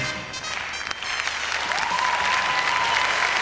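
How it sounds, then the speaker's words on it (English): A ballroom crowd at an international standard dance championship applauds a couple after a quickstep, steady dense clapping building slightly and holding loud throughout, with a faint tone running under it. "And the crowd really appreciating that pair."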